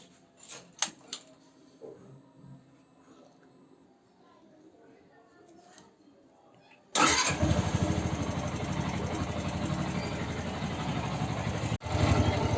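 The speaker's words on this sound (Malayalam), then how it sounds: "ഇനി ഒന്ന് സ്റ്റാർട്ട് ചെയ്ത് നോക്കാം." A Yamaha R15 motorcycle engine fires up after an oil change, following a few quiet clinks and handling noises. It settles straight into a loud, close, steady idle that runs to the end.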